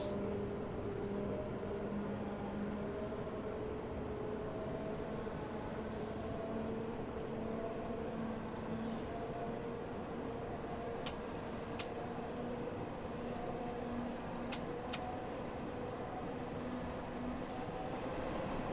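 A London Underground train runs in Train Sim World 6 with a steady, droning rumble and a slowly rising motor whine, broken by a few faint clicks.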